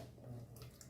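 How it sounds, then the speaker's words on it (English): Water splashes and trickles steadily for under a second, a low gurgling stream pouring into a vessel close by. "Adding water."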